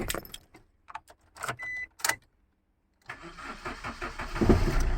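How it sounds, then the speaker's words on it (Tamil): A Maruti car after an immobilizer and ECM fix: a few sharp key clicks and jangles, a brief pause, then the engine cranks and catches into a steady mid-pitched idle that rises slightly at the end. "வண்டி ஸ்டார்ட் ஆகிடுச்சு பக்கா"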